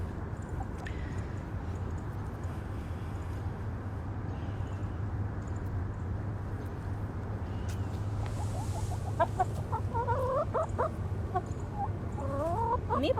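A flock of ISA Brown hens, small ginger birds, clucking outdoors on a rainy day; soft scattered clucks over a steady low background at first, then denser, closer bursts of clucking toward the end.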